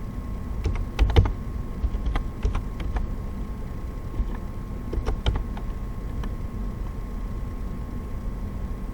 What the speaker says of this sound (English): Let's type all this in.